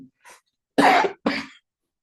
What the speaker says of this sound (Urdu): آپ تمام احباب کھانسی کو نظر انداز کیجیے گا